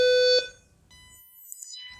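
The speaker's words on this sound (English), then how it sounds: "You'll hear this longer beep" A Comfygo IQ 7000 auto-folding powerchair gives one steady, loud electronic beep lasting under half a second before auto-folding, cut off sharply, followed by near-silence and a faint high whine.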